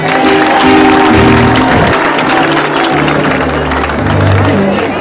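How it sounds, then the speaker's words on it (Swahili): A large gathering applauds an honoured guest, a loud, dense wash of clapping that fills the whole stretch, mixed with voices and sustained tones. "mpigie makofi."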